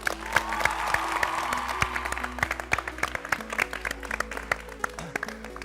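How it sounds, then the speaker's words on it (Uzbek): Applause from a children's game audience after the Sher Yuraklar team wins a round of a playground number game, a steady patter of many hands clapping close by with a few louder claps, lasting throughout. "Qarsaklar."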